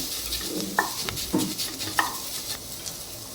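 Onion, green chili and curry leaves frying in a pan with ground pepper and cumin powder, a steady soft sizzle broken by several sharp scrapes and clinks of a spoon stirring against the metal.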